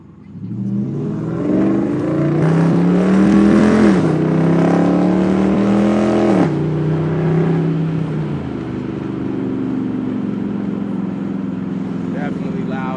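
A Dodge Durango R/T engine pulls hard under full throttle, its rising rev sweep loud and close from inside the cabin, easing off after several seconds to a steady cruise drone.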